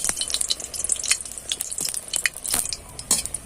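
Malpua pitha fries in oil to a low crackling sizzle, broken by frequent sharp clinks and scrapes of a spoon against the pan as the pieces are lifted out.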